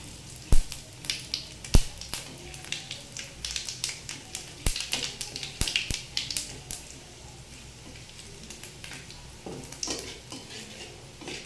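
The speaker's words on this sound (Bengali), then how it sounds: "তেলটা গরম হয়ে গেলে এর ভিতরে দেবো একটু জিরা আর দেবো একটা তেজপাতা।" Cumin seeds and a bay leaf sizzle in hot oil in a pan, with quiet, irregular crackles and pops under a soft frying hiss, plus a few sharper ticks near the start.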